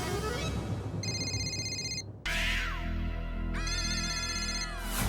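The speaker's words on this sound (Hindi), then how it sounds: "सुना आपने? मेरा फोन बज रहा है।" Mobile phone ringtone playing indoors in a comedy scene, two bursts of a bright electronic melody separated by a brief pause, with a low hum running underneath.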